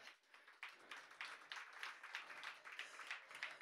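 A small audience at a jazz festival concert claps in a sparse, uneven patter, quiet and somewhat distant, with individual hand claps audible through the short stretch.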